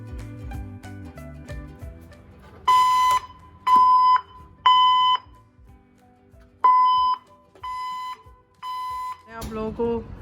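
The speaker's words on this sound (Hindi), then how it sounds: "पूरी बिल्डिंग का बाय द वे अलार्म है जो इस वक्त बज गया है" A building-wide fire alarm, triggered when a smoke detector was not switched off in time, rings in six loud, evenly spaced beep bursts, near and clear, between stretches of lower background sound and talk.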